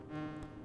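A bee enemy in the Donkey Kong Country video game gives off a brief, fairly quiet, droning buzz that holds a steady pitch for under a second.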